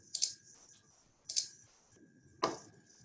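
Three sharp, close mouse clicks at roughly even intervals, each with a brief bright snap, set against a faint steady hum while a file is opened on a computer.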